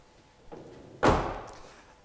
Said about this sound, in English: we're going to open the boot lid